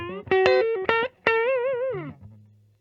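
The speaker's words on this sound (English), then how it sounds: "Like that neck pickup, you can tell it's nice and juicy." A 2015 Gibson Les Paul Custom electric guitar with a broken headstock, played through the neck pickup with effects and a touch of drive. It rings out several sustained, slightly out-of-tune notes, and one note wavers with vibrato before fading.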